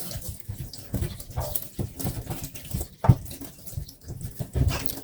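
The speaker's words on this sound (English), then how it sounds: "First, wash your plantain to get rid of dirt." Unripe plantains are rinsed under running water, with close splashing, patter and uneven rubbing sounds throughout, no voices.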